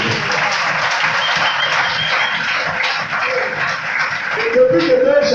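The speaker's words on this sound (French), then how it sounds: "Acclamons très fort notre Dieu." A church congregation bursts into sustained loud applause, a dense wash of many hands clapping together steadily, with faint voices mixed into the crowd noise.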